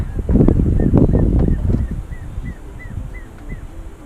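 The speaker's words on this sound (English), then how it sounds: "that's the sound of a juvenile pale chanting goshawk" A series of short, thin, rising call notes from a juvenile pale chanting goshawk repeat at a steady pace in Karoo National Park, while louder low thumping and rustling fills the first half.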